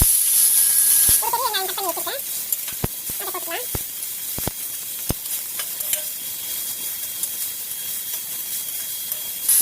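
Chopped onions with cumin seeds sauté in a pan for a potato stir-fry, giving a steady frying hiss throughout with sharp stirring clicks. Someone speaks briefly early on.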